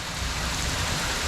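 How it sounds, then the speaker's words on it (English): Steady, dense hiss of rain falling outside, continuous and fairly close with an even, broadband wash and no voices. "Rain. It's a bit damp out there."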